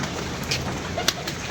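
Pigeons coo softly among a steady background hiss, a few brief low calls heard close but faint over the short stretch, with a sharp click near the end.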